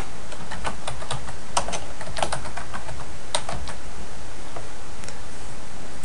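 Keys on a computer keyboard clatter in quick, irregular bursts of crisp clicks, close and clear, with short pauses between runs of typing.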